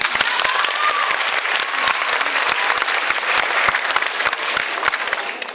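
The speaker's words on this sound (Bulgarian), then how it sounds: "Нека техните изпълнения взревят вашите аплодисменти." Steady, dense applause from a concert audience in Burgas, a full hall clapping continuously and loudly with no letup.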